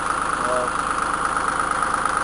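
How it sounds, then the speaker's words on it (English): A John Deere 3rd 930 tractor engine idles with a steady mid-pitched drone and faint vibration, heard close and continuous under a voice speaking. "Here's the 3rd 930. That's about the only tractor I use for cutting."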